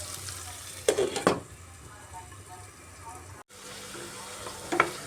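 Tomatoes and spices sautéing in a pan for cabbage curry, a soft low sizzle with a few sharper spatula scrapes, close and quiet with no voices.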